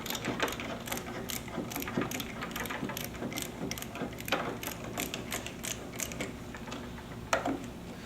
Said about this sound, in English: So you supply that on there using a 5/16 nut driver or socket or even a screwdriver. Just tighten that down on the entry panel.